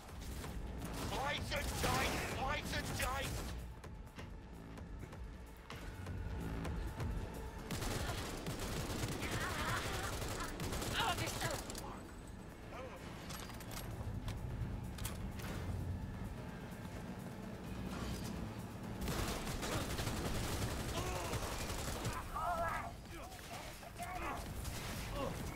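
Gunfire from a low-damage gun in the Cyberpunk 2077 video game, dense bursts of shots and mechanical clatter running continuously through a busy in-game firefight, mixed with game sound and talk.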